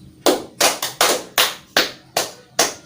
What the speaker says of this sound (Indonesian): Kita kasih tepuk tangan untuk Mas Nabil.